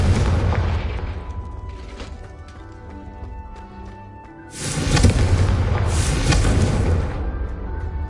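A Confringo spell blast from the video game Hogwarts Legacy: a loud, broad booming burst at about the midpoint, swelling and holding for a couple of seconds over a busy game soundscape of music and ambience.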